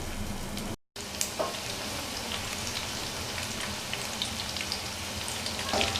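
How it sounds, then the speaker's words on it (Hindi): Chicken pieces fry in oil in a non-stick kadai with a soft, steady crackle and spatter, rain-like and fairly quiet, broken by a brief dropout near the start. "अब हम लोग इसको फ्राई कर लेंगे। तेल डाला है कढ़ाई में,"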